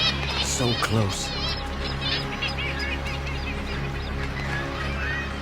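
Kittiwakes call from a cliff colony as a young fox hunts beneath them, harsh cries bursting out early then fading under a steady low rumble of wind or surf.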